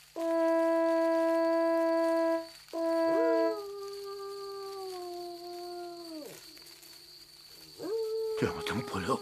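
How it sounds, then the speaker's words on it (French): A wolf howls at night in a children's fairy-tale setting: long sustained tonal cries rising and holding, loud and close, one after another with a brief break, then a fading tail and a short final call. "Le loup n'est pas loin."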